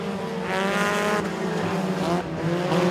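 Compact race cars on the dirt oval at Moler Raceway Park roar together continuously at close range, their engines buzzing steadily and pitches shifting as they battle through the turns.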